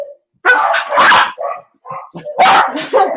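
A small, squirmy pet dog barks loudly and close indoors, several sharp yapping barks in quick bursts with short pauses between them.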